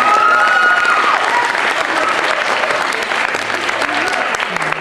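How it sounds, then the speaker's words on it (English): Audience applause at a Battle of the Bands awards event, a dense, loud wash of clapping from a large crowd, steady throughout with faint voices underneath. "So I think you should all give yourself a round of applause."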